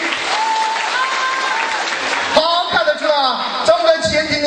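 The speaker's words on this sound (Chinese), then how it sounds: "来点掌声鼓励。" Applause for the bride at a wedding banquet in Taizhou, China, a crowd clapping steadily and loudly under an emcee's amplified voice, with sharp claps standing out near the end.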